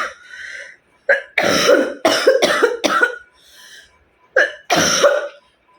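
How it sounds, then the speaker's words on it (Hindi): A woman coughing hard in a string of harsh, close, loud bursts, several grouped in quick succession with short gasping breaths between them, and no speech. "बहुत तेज वाली खांसी हो गई है"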